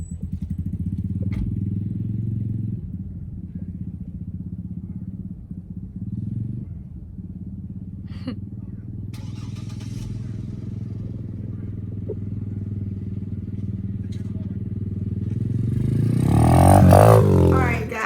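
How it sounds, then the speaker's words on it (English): An Apollo DB X18 dirt bike engine runs with a low, steady rumble and some clatter, then revs up loudly near the end as the bike gets moving, close to the listener. "Yeah, I got my first dirt bike."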